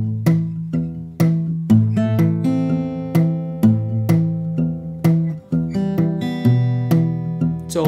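Fingerstyle guitar with a thumb-picked bass line and quick two-note rolls inserted between the bass notes, a steady flowing pattern of bright plucks played solo and close for several seconds.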